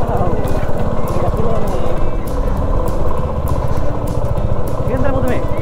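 A motorcycle rides around the large grounds of Prayag Film City, its engine a close, continuous loud drone with steady pulsing throughout, while voices are heard over it.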